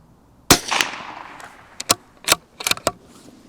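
Shots from a CZ 457 .22 rifle firing 40 grain bullets outdoors, a sharp loud crack followed by several quicker, fainter cracks and pops spaced irregularly, alone with no talking.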